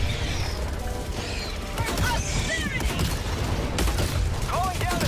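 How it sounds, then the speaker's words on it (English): Mortar shells exploding in a Helldivers firefight, a dense run of booms and crashes mixed with gunfire bursts and chirping effects over continuous game noise. "Dude, this freaking mortar is so cool."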